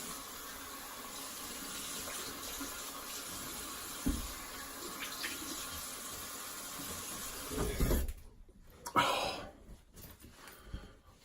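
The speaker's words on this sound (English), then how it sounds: "I'm just gonna rinse and I'll be back in a couple of seconds." Tap water running steadily in a sink to rinse after a shave, a soft continuous flow that breaks into brief splashes and dripping near the end.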